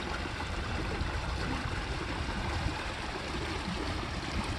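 Flood irrigation water rushes steadily through a desert channel in a constant, even, close broadband flow with no pauses.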